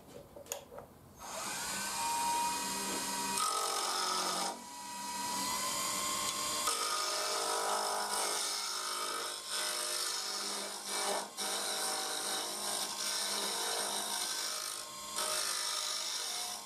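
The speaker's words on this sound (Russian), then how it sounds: "зажимаем станок" A wood lathe turns a baluster blank held between centres, giving a loud, continuous scraping whir of a tool cutting spinning wood, with short breaks in the cut and no talk.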